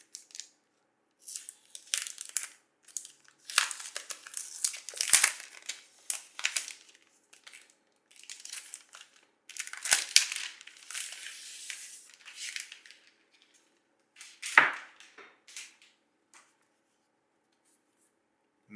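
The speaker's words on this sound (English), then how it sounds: "So you open it up and unwrap this thing." Crinkly rustling and tearing of packaging as a white Dell XPS 15 9510 laptop is unwrapped, in irregular close bursts with short pauses and a louder crackle near the end.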